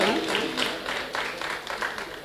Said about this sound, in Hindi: आप लोग एक बार तालियां बजा के मुझे बता दीजिए कि मैं आप तक पहुँच रही हूँ